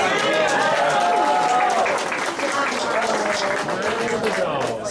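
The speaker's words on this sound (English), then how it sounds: "Let's give Milo a round of applause" A crowd at a fundraiser event gives steady applause for Milo, with dense clapping and cheering voices filling the room at an even level the whole time.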